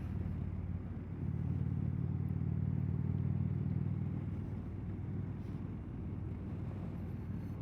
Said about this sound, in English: it just accelerates fine